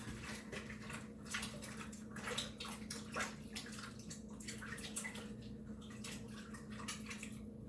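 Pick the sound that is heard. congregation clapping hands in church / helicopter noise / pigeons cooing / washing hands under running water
washing hands under running water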